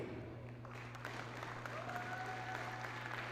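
Audience applause at a taekwondo US Open finals event at ESPN Wide World of Sports, Walt Disney World, a faint steady patter of many hands over a low hum, with a thin tonal whistle partway through.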